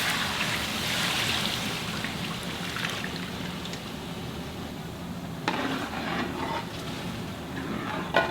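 Soaked tamarind water pours into a cooking pot for a tamarind curry, a continuous splashing, rain-like hiss that stays fairly even, with a sharper splash burst partway through and a clunk at the very end.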